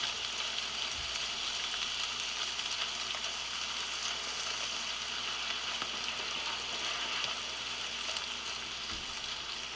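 Steady rain pours in the video game ARC Raiders, a dense, even hiss of falling drops that holds at a constant level throughout with no speech over it.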